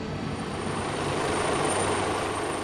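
Broadband rotor and engine roar from a helicopter lifting off and rising over Rome past St. Peter's and the Colosseum, a steady, loud wash of noise with no let-up throughout.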